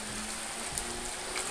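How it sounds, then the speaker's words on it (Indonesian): Heavy rain pours down in Martapura amid flooding, a steady broadband hiss with scattered close drops and no voices. "Hujan."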